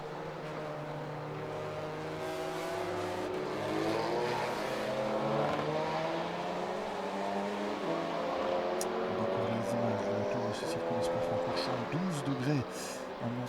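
A VW Golf TCR accelerates during 2024 SuperCar Challenge qualifying at Spa, its engine a sustained droning whine that rises in pitch, heard under steady commentary.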